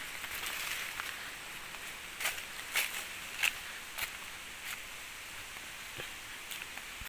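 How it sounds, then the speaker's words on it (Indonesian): Rain beginning to fall in a tropical forest, a steady diffuse hiss with scattered louder drips and rustles standing out, moderately quiet and without voices. "Sudah mulai turun hujan."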